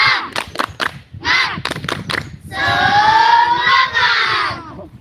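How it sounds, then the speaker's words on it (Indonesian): Schoolchildren perform a tepuk semangat clapping chant, loud and close: sharp bursts of rhythmic claps alternating with shouted group chanting, ending in a sustained collective cheer. "tepuk semangat"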